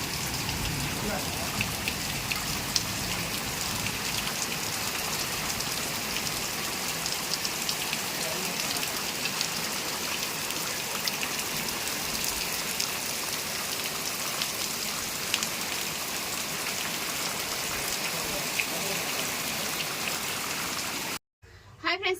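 Heavy rain pours down steadily in a dense, unbroken hiss of drops hitting surfaces, then cuts off abruptly at the end.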